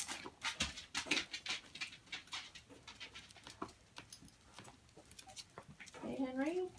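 Seven-week-old puppies whimper, pant and yip in quick irregular bursts while playing nearby, ending in a drawn-out whine, with a person speaking over them.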